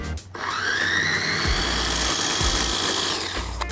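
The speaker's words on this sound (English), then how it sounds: "so into the blender. Touch of red wine vinegar, and then give it a blitz." A blender whirs up to speed and runs steadily, blitzing garlic, anchovies and red wine vinegar into a sauce, a loud close motor drone after a brief start.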